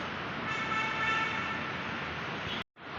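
A Pune metro train at Bhosari produces a loud, steady rushing rumble that holds evenly, then cuts off abruptly near the end.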